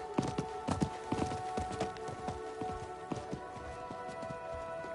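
A merchant's horse in a video game clip-clops with a quick, uneven run of hoofbeats over a steady musical backdrop. It is fairly loud at first and softens toward the end.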